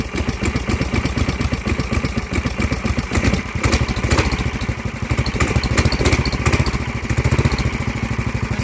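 Big Block 440cc Baja MB200 mini bike engine running loud and close, a rough, rapid, continuous single-cylinder chug that stays strong and steady throughout.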